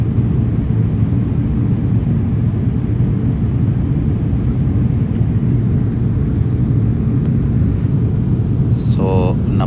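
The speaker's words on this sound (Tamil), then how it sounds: "பாருங்கள் ஃப்ளைட்ஸ் டேக் ஆஃப் ஆகிட்டே இருக்குது" Airplanes take off near Dubai airport, heard from inside an Emirates A350 cabin as a constant loud, dense engine roar and rumble with no pauses, a few faint higher tones flickering briefly near the end.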